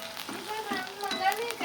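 Potatoes fry in hot oil in a home kitchen, a brief, close, steady sizzle with bubbling crackle.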